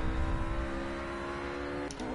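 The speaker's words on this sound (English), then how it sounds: "all I hear is the engine of my car over you guys" A race car engine from the Project Cars racing game at Road America drones in a steady, sustained tone, alone and fairly close, with a slight shift near the end.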